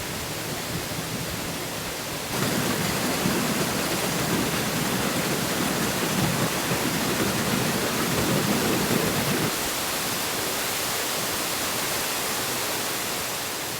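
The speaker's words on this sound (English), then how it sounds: "I'm on my way to check out a waterfall." Steady broadband roar of a waterfall, loud and continuous, rising abruptly after a couple of seconds and easing slightly near the end, with no voices.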